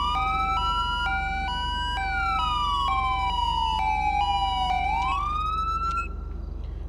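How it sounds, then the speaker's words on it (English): Police siren tones from an emergency-lighting mod in the LSPDFR police game, loud and close, with two tones running at once: a stepped high-low pattern over a sweeping wail that dips and then climbs again. "the auxiliary siren lets us run 2 different tones at the same time"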